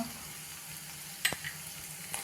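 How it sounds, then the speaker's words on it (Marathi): Asafoetida, turmeric, curry leaves and green chilli being sautéed in hot oil for a brinjal bharit give a soft, steady sizzle, broken by a couple of brief utensil scrapes and clinks. "तर हे सगळं आपल्याला थोडंसं परतायचं आहे"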